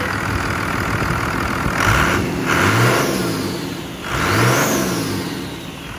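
A 2000 Ford Excursion diesel engine revved repeatedly while building turbo boost, loud rising and falling engine swells with a whining spool over a steady rumble, three distinct revs.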